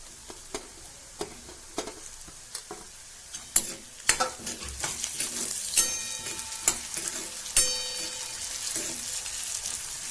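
Finely chopped tomato tumbles into transparent fried onion in a pan for spinach bhaji, giving a burst of sizzling followed by steady frying hiss and repeated scraping stirs with clinks, close and fairly loud.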